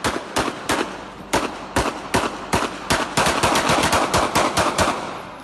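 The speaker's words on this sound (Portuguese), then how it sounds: "Ele foi entrar e eles continuaram atirando." Firearms fire in a long series of sharp, loud shots, first spaced out, then in quicker irregular bursts, close and echoing, with no voices over them.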